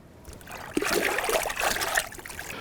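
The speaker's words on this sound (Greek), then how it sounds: "Ωραία, το ξεβγάζω." Running water rinses a freshly cleaned fish beside the water, a steady trickling splash that swells for about a second and then eases off, with no talking.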